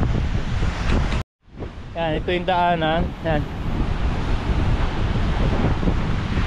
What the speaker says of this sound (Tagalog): yan yung hampas ng alon